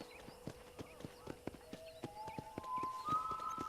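Horse hooves clip-clop in a quick, even galloping rhythm in Red Dead, crisp repeated hoofbeats with a rising musical tone building underneath toward the end.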